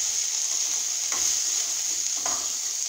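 Spiced bhindi (okra), coated with red chilli powder and other ground masalas, sizzles steadily in a pan while a spoon stirs it in two distinct scraping strokes, close and clear with no voices.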